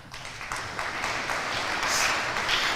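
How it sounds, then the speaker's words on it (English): An audience at an IB junior pinning ceremony claps steadily, a dense, even wash of applause that swells slightly and holds throughout, with no voices over it. "Please तालियां बजाएं."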